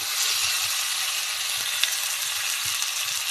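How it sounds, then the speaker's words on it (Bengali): Fried potatoes and cauliflower tipped into a sizzling spice paste for an egg curry, giving a loud, steady, close frying hiss that fills the whole stretch, with a faint clink partway through. "এবার এর মধ্যে দিয়ে দেবো আমি এই যে ভেজে রাখা আলু আর ফুলকপি দিয়ে দিচ্ছি।"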